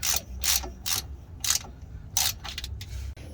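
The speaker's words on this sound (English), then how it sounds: "We're just gonna tighten the plug." Ratchet with a 1/4 Allen socket tightening the oil plug on a Freightliner Cascadia wheel hub, several quick bursts of close, crisp ratcheting clicks separated by short pauses.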